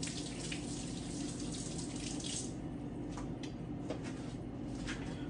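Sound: rinsing hands under running tap water

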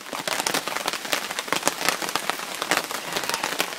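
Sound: rain

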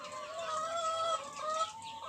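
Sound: chickens clucking

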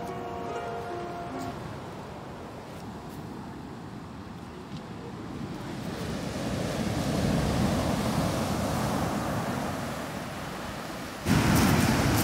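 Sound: ocean waves

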